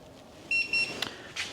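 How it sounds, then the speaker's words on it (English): A Segway ZT3 Pro electric scooter gives two short, bright electronic beeps while pairing, followed by a couple of fainter clicks and chirps, close by and clear with no talking. "Still beeping at us."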